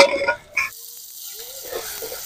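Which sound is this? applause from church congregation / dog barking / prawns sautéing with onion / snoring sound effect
prawns sautéing with onion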